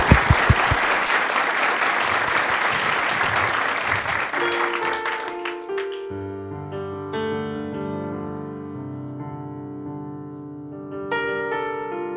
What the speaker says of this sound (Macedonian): Аплауз за Владко Лозановски, дечки.